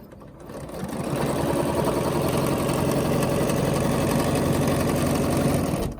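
A sewing machine steadily stitching a quilt block along a Westalee ruler, its fast, even motor hum running close and continuous after a short start-up, with no talk over it.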